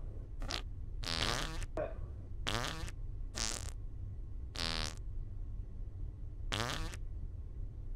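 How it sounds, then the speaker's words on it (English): Five or six short buzzy farts from a cartoonish sound effect in the Goose Goose Duck video game, spaced irregularly over several seconds against a low steady background hum. "Because I got a new fart."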